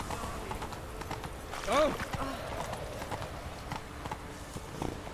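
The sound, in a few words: horse galloping hooves in video game The Witcher 3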